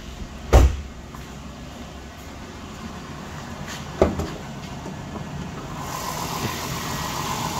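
A 2005 Dodge Grand Caravan's 3.8-liter V6 idles steadily under the open hood, a constant close-up hum broken by two sharp clunks near the start and middle.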